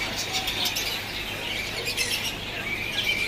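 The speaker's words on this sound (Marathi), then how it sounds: "पोपट वगैरे आहे" Parrots at Crawford Market in Mumbai, a busy wash of high chirps and tweets from many birds at once, continuous and moderately loud over market background noise.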